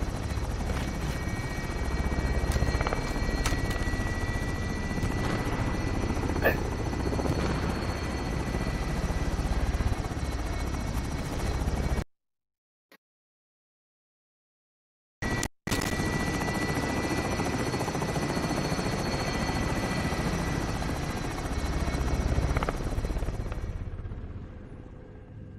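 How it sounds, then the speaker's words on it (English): An attack helicopter in the Call of Duty Warzone video game roars steadily with a dense rotor and engine drone, loud and continuous, cutting out briefly midway before resuming and fading slightly at the end. "Hostile attack chopper carrying cash. Shoot it down."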